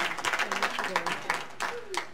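A crowd at a winter sports awards ceremony claps in a round of applause, scattered hand claps that are fairly loud and close, with a voice speaking over them.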